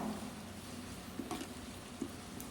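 Ginger garlic paste fries in a pan for biryani while being stirred: a steady, close sizzle with a few soft scrapes and taps of the spoon, and no voices.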